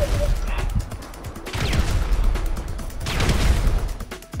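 Gunfire from GTA V Online: bursts of rapid automatic shots in loud waves, the strongest stretches around the middle and end, with brief gaps between volleys.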